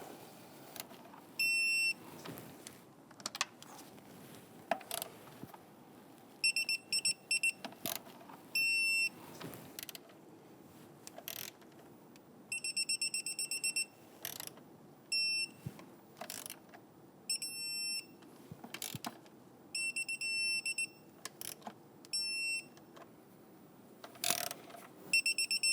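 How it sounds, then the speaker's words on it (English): A torque wrench tightens fuel injector bolts on a 2011-2021 Jeep Grand Cherokee 3.6L V6 in a series of ratcheting bursts, several ending in a shrill repeated beeping tone, with quiet pauses between. "Now when I go ahead and torque down our bolts here, there is a particular pattern."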